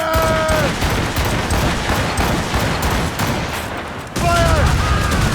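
Ship cannons in Assassin's Creed Rogue let off a broadside in two loud rolling volleys, with a burst of gunfire at the start and another near the end over a steady crackling din, while a shouted voice carries over the firing.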